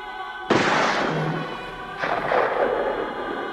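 A warning gunshot in a radio drama: a sudden loud, sharp blast with a rumbling decay, then a second, softer burst about a second and a half later.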